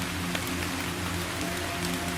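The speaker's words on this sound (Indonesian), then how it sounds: "Jalan pun licin karena gerimis." Steady drizzle falls through a forest, a continuous soft hiss of raindrops on leaves and ground with no voices.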